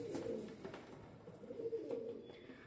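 Caged pigeons in a large loft coo softly in low, rolling murmurs, a faint continuous burble with a few swelling calls.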